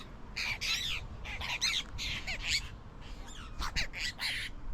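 Loud, harsh bird squawks burst out in quick irregular bunches, several birds calling over one another close by in the Australian outback.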